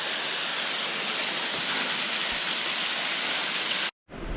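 Steady, close rush of a small waterfall in New Zealand filling the whole clip, a constant bright hiss that cuts out abruptly near the end and briefly returns.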